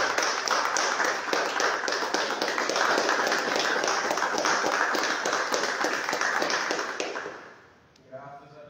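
A church congregation claps together in steady, dense rhythmic applause for about seven seconds, loud and close, then it fades out and a voice begins speaking.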